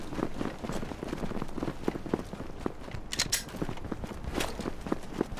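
Quick, light footsteps patter in a steady running rhythm, moderately close, with a brief sharper clatter partway through.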